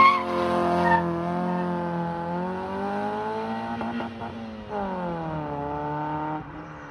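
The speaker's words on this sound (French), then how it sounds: "C'est ce petit pot de merde là qui fait autant de boucans sur la route." A 1995 Honda Civic MA8 with a 1.4-litre engine and a loud aftermarket exhaust drives by, its engine droning and shifting pitch as it accelerates and lets off, close and steady with a raspy tone.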